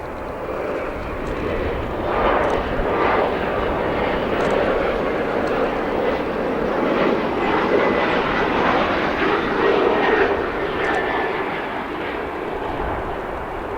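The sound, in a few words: General Electric GEnx jet engines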